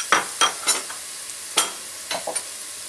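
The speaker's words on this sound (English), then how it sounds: "As soon as you hear that sizzle with the olive oil" Chopped garlic sizzles softly in olive oil in a pan while a utensil stirs it, producing a quiet, steady frying hiss punctuated by several sharp scraping clicks.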